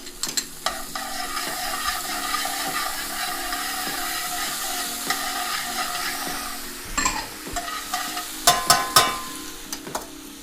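Shallots and peppercorns fry in a pan of oil for a steak au poivre sauce, a steady close sizzle with stirring scrapes and a few sharper clatters of the pan near the end.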